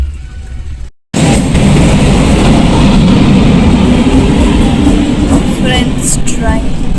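Train rolling past a railway crossing near a beach, a loud, sustained rumble filling the clip after a brief dropout, with faint squeals and clatter toward the end.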